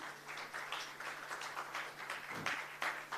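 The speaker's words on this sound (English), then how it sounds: "Give it a huge round of applause" An awards-ceremony audience at a healthy workplaces conference breaks into applause, a moderately loud, uneven patter of clapping that swells and dips across the hall, with a steady low hum beneath.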